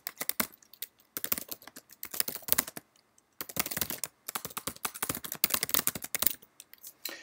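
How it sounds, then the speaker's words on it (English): A location name is typed on a computer keyboard in quick, close, crisp bursts of keystrokes, with short pauses between the runs of clicks. "I'll type the name of the spot."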